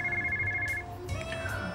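A phone rings with a bright electronic ringtone, a repeating melodic tone that plays clearly on its own with no talking.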